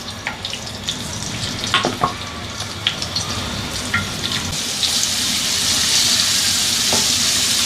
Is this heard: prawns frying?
yes